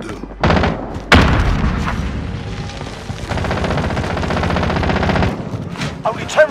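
Sustained light machine gun fire in Call of Duty: Warzone, a loud continuous rattle of rapid shots with sharp bursts and booms at the start, running nearly unbroken for several seconds before tailing off.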